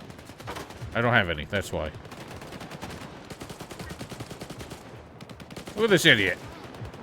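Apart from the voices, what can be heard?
gunfire in the video game STALKER 2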